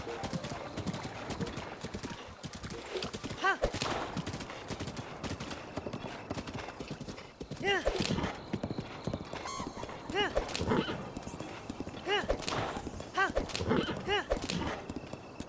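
A horse in Zelda: Breath of the Wild, Master Mode, trots and gallops with steady clip-clop hoofbeats, breaking into several loud whinnies and neighs while someone talks over it throughout.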